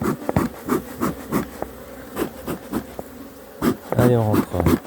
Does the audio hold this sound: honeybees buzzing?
yes